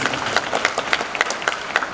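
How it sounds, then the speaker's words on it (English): An audience at an Independence Day celebration program applauds the teachers, a dense, steady burst of many hands clapping close by with no talk over it. "Let us give a big round of applause to all our teachers."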